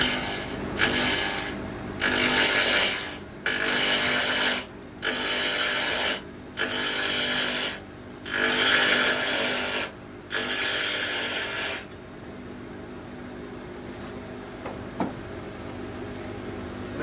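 Wood spatula and spoon blanks being turned on a lathe with a bull gouge: repeated loud rasping cuts in bursts of about a second, separated by short pauses, then a quieter whirring spin near the end.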